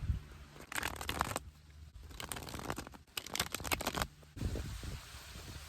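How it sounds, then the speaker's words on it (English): A deck of tarot cards is shuffled close up, with several bursts of riffling and fluttering card sounds separated by brief pauses and soft handling noises, no voices. "Let's shuffle your deck."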